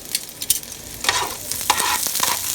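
Tortilla pieces frying in hot oil for red chilaquiles with sliced onions, a close sizzle broken by scraping stirs and bursts of crackle, no voices.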